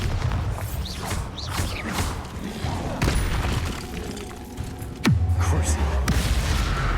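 A Bombarda blast spell in Hogwarts Legacy fires amid a string of other spell effects, with a sharp crack and deep rumbling boom near the end over busy crackling and whooshing combat sounds.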